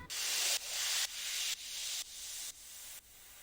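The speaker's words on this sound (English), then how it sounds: "For the white noise effect, the kind of whooshing impact when the drop initially hits" Bright white-noise whooshes made from a running tap and hairspray, with volume automation, pulse in a steady rhythm, about seven surges that swell and cut off, gradually fading quieter over time.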